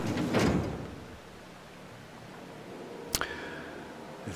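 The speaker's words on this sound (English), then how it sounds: "Just close the door." A door sliding shut in The Outer Worlds, one sharp mechanical swish and clack near the end after an earlier whooshing rush, fairly close over quiet room tone.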